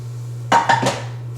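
Pots, pans and skillets, including cast iron, handled in a home kitchen: three quick metallic clanks and clatters in close succession over a steady low hum, then quiet.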